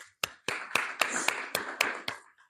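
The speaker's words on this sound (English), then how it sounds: "clap." An audience at a talk claps together, giving eight or nine crisp, evenly timed claps with short echoes that fade off at the end.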